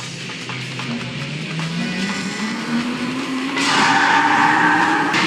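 Chibi-style kart racers in Mortal Kombat Armageddon's Motor Kombat mode, a rising engine whine sweeping upward in pitch, then a loud burst of skidding tire noise near the end.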